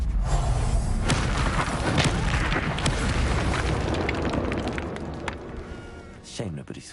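A Confringo fire spell bursts in a Hogwarts Legacy duel, a loud booming blast that swells out of dense battle noise and rolls on for several seconds before fading, with shouted spell voices mixed in.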